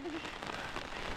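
Steady rain falls outdoors at a pond digging site, a dense even hiss of drops on wet ground and surfaces, continuous and fairly close throughout.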